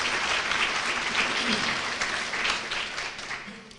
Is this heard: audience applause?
yes